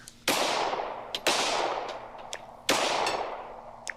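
Three loud, sharp gunshots, each ringing out with a long fading tail, spaced about a second or more apart, with smaller fainter pops and clinks in between.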